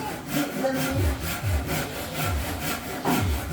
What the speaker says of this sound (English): as you can hear the sawing going on